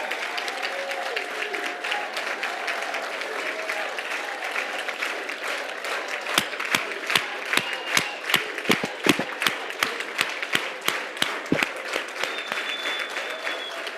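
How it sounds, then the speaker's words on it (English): Awards dinner audience applauding the servers, a steady bed of clapping with a few cheers, then sharper individual claps close by punctuating the second half. "give them a round of applause to our servers right over here"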